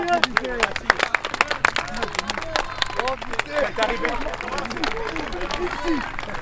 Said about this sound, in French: Allez, on applaudit les gars.